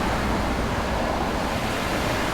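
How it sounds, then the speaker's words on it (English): Ocean surf on the green-water windward coast of Oahu, moderate waves suited to surfing and paddleboarding, rolls in as a steady, loud, broadband wash with wind noise, unbroken throughout and with no voices. "The waves are not very, very big, but they are big enough for you know, surfing, paddleboarding, those kind of things."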